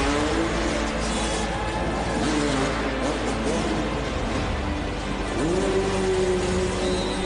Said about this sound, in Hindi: ये बाइक्स तेज रफ्तार से दौड़ रही हैं